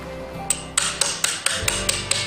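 A hammer strikes a chisel into stone while a Buddha statue is carved, eight or so crisp, close metallic taps landing in a steady working rhythm.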